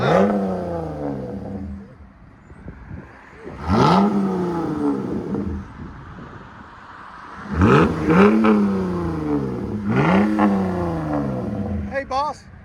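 A RAM 1500 pickup with a 3.6L V6 and aftermarket exhaust revving up repeatedly, several rising engine roars separated by idle, close and loud with a voice talking over parts.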